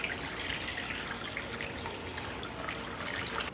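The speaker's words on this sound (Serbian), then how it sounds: "u činiju ću sipati vodu" Water pours steadily into a bowl, a soft continuous trickle and splash, faint and close with no talking.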